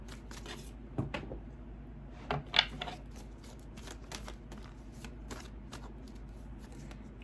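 Tarot cards shuffled and drawn by hand, with soft papery riffles and a few sharper card snaps at close range over a quiet background.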